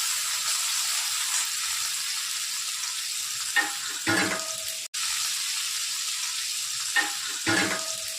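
Onion and tomato fry in a pan with a steady, bright sizzle, broken by a few soft clacks from stirring and one brief cut in the sound, close and with no talking.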